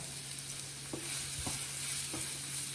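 Thinly sliced, lightly salted onions sizzle softly in a pan, a faint, even frying hiss broken by a few gentle stirring scrapes.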